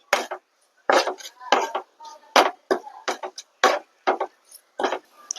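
A utensil stirs prawns with pepper and turmeric powder in a pan for Kerala prawn thoran, making about a dozen sharp clattering scrapes in an irregular rhythm, close and clear with quiet gaps between strokes.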